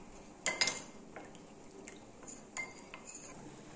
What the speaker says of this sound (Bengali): স্যুপের জলের মধ্যে কর্নফ্লাওয়ার দিয়ে দিচ্ছি, গুলে নিচ্ছি